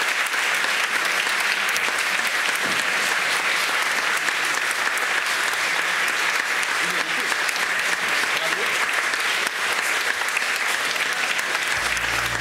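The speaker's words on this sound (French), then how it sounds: "Ils étaient vos invités, on les applaudit, s'il vous plaît." Sustained, dense applause from a conference audience at a French debate event, loud and even throughout with no break, fading slightly at the very end.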